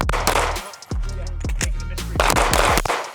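Pistol shots fired during shooting practice, a quick run of sharp cracks in two clusters separated by a brief pause, close and loud, with people talking around them.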